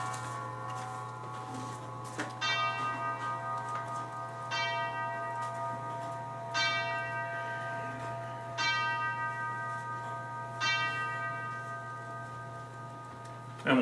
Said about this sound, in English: And once again, the clock decided to chime in on what was going on.